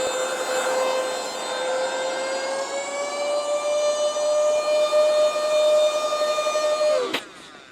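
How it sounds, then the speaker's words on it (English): An electric air pump hums with a steady, slowly climbing tone as it fills a camping mattress inside a Tesla Model 3, then cuts off abruptly near the end. "let's grab the pump. Let's put this on, and let's see how much it pumps up"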